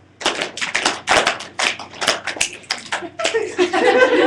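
Quick rhythmic hand claps, snaps and thigh slaps in a repeating pattern, several people together in a class, with a little laughter near the end.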